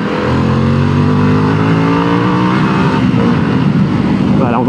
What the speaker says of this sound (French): Je vous laisse écouter un peu chanter pour découvrir la toute nouvelle sonorité de la marque.